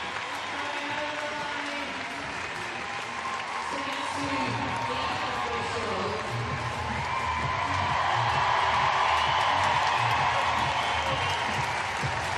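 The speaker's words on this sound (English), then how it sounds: "Crowd saluting Guimaraes, and he is in" Large arena crowd cheering and applauding as a CrossFit athlete crosses the finish line at the 2024 Rogue Invitational Quick Sand men's individual event; a sustained, swelling roar that grows louder toward the end, with an announcer talking underneath.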